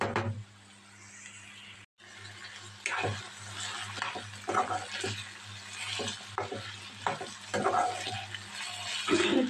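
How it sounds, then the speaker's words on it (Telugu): Food fries in oil in a pan with a continuous hissing sizzle, broken by occasional stirring scrapes and clinks, heard close at moderate level without speech. "చక్కగా ఇప్పుడు ఫ్రై అవుతుంది అన్నమాట."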